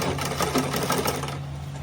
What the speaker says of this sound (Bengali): দুনো পার্টই একইভাবে সেলাই করে নিতে হবে।